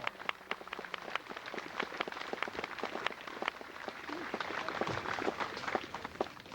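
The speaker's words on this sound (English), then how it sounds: "please give them a warm round of applause" Faint, scattered clapping from an outdoor crowd at a Memorial Day parade ceremony in Port Jervis, thin and distant, with separate claps that stay sparse rather than building into a full ovation.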